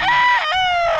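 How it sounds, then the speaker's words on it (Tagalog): A Boston Roundhead gamefowl rooster crows close and loud, one full strained cock-a-doodle-doo with a rising opening and a long, wavering, drawn-out tail. "Boston Roundhead ng Iskulin"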